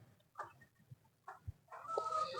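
A black hen clucks softly in a few short, separate bursts that grow slightly busier toward the end, heard close but at low volume in a quiet yard.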